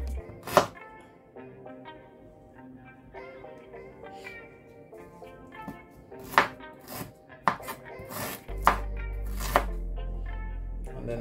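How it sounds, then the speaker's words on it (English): A knife chops ginger on a board, with irregular sharp knocks and a few clustered strikes, close and crisp, followed by a heavier thud near the end, no voices. "Need to peel it, so you're gonna blend it, so just cut it up."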